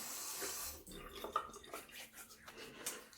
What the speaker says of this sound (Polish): Patrzcie, tak spływa woda po brzytwie, która jest polerowana na lustro.